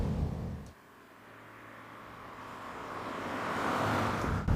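An Alfa Romeo 105 Giulia engine runs steadily in a continuous, moderately loud drone that dips briefly, then builds back up with a faint rising tone, with no voices present.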